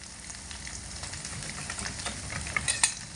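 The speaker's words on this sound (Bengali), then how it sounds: "এই সমস্ত কিছু দিয়ে হালকা আঁচে একটু নাড়াচাড়া করে নেব" A spoon stirs spices (salt, turmeric and red chilli powder) into raw potato curry in a pan over low heat, giving a soft continuous sizzle with scraping stir strokes close by, quiet, without speech.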